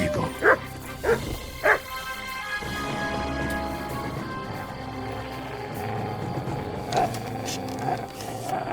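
A dog barks in Kingdom Come: Deliverance II: three sharp barks in quick succession, a pause over steady game ambience and music, then two more barks.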